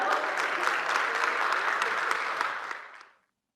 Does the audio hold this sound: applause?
yes